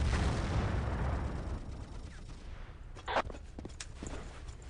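A landmine detonates under a passing tank in Battlefield 1942, a heavy low rumbling blast that slowly fades, followed by a few sharper cracks and pops further off.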